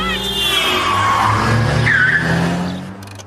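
A car skids with a loud, sustained tire squeal lasting about three seconds, rising in pitch midway over a low engine rumble before cutting off abruptly.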